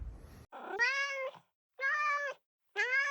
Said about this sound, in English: there are a lot of cats here